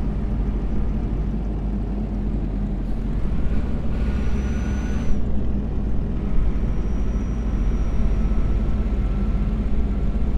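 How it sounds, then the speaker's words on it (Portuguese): Truck engine droning steadily in a bus-driving video game with a Scania Jumbus 360 mod on the Brașov to Târgu Mureș route, a low continuous rumble with faint tonal whines on top. "parece que eu ouço um som de caminhão"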